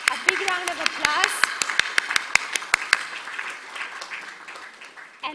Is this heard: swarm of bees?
no